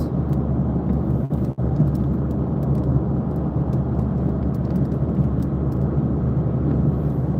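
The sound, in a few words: heavy rain shower heard from inside a driving car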